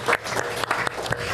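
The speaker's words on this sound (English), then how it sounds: "So let's give yourselves a round of applause for being fantastic." An audience at a live stage event claps in a dense, steady ripple of applause, close and continuous with occasional sharper claps standing out.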